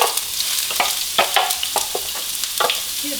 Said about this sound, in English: go ahead and begin with these onions and peppers and ham.